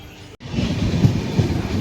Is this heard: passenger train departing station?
yes